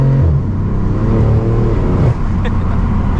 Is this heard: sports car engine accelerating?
yes